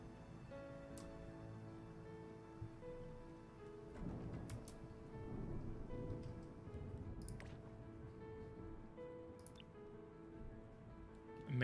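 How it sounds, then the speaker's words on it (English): Soft, steady rain falls in a video game, a faint continuous patter with scattered light ticks and a slight swell midway. "It's raining outside."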